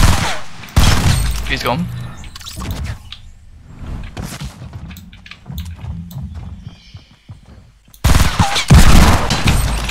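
Bursts of gunfire in the Fortnite battle royale video game crackle loudly at the start and again near the end, with quieter in-game action between, under a player's excited talk.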